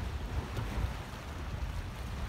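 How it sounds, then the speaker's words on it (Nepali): Water waves lap steadily along the Doha Corniche in Qatar, where wooden boats are moored. The wash is soft and continuous under a low rumble of wind. "तपाईँले यहाँ देख्न सक्नुहुन्छ पानीहरूले छाल मारिराखेको छ"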